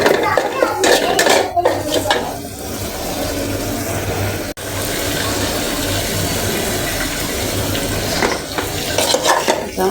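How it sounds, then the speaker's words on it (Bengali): Taro roots being stirred into spiced masala in a cooking pan, with a steady scraping of the utensil against metal, soft sizzling and occasional clinks, close and fairly loud throughout. "মশলা কষানোর পরে কচুরমুখিটা দিয়ে দিলাম"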